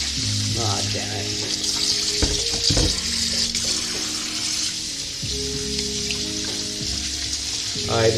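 Cold water runs from a kitchen tap in a steady hiss that continues throughout, with clatter and low background hum under it.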